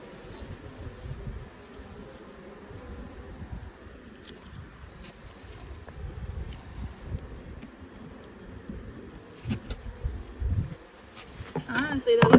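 Honeybees buzz steadily around small nucleus hives in an apiary, a low continuous hum close to the microphone, with handling noises and a few louder bumps toward the end.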